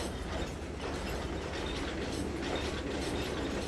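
Freight train rolling along in the Trainz 2022 railway simulator, a steady continuous rumble with faint rhythmic clickety-clack of wheels on rail joints, even and unbroken throughout.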